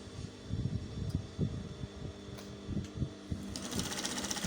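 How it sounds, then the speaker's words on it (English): A sewing machine stitches down the opening side of a patch pocket with a pleated border, running as a steady close-up stream of quick rhythmic needle thumps with small bursts in speed and no talking. "I'm just going to go ahead and sew this down, the opening side of the pocket."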